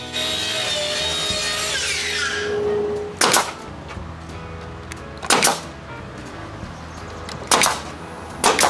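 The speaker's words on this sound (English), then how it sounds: "With 2 nail guns, this goes quite fast." Two nail guns fire into wooden roof boards on a firewood carport behind a shop: after a sustained grinding opening, sharp loud pneumatic bangs land in an irregular series, some as quick doubles.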